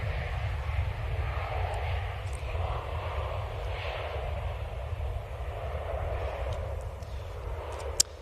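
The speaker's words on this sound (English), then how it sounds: "This is a Ryanair from Seville." A Ryanair Boeing 737 MAX, arriving from Seville at Manchester Airport on runway 23L, makes a steady, fairly distant jet roar with a low rumble that holds level throughout, with no voices over it.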